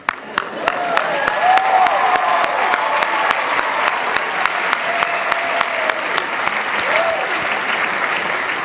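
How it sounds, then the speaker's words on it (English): An audience applauds during a John Cena speech, steady crowd clapping with some whoops and cheers rising above it, continuous and fairly loud. "Carlos, I applaud you for that."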